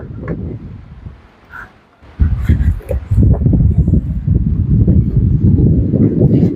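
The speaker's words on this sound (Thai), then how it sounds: "แต่วันนี้ลมแรงอ่ะ" Strong wind buffeting at a beach campsite, rough low gusts roaring against the microphone, easing briefly before surging back loud and sustained.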